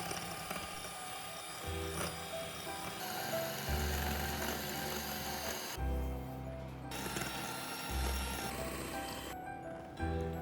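An electric beater whirs through cake batter as sugar is added for a Christmas plum cake, a steady motor drone that shifts in pitch and load as the beaters work the mix, with clattering against the bowl.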